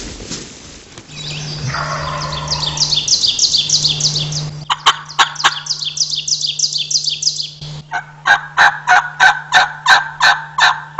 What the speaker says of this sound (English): the second gobbler that I roosted last night that we hear gobbling over to the west